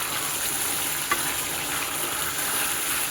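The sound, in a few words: Bicol Express sautéing in a pan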